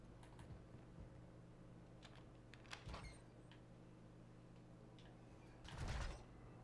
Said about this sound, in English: So let's open up this door.